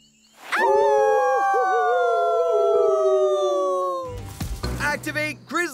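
A gray wolf in a kids' cartoon lets out one long, loud sustained howl that gently falls in pitch over about three seconds, then gives way to busy, choppy sounds at the end.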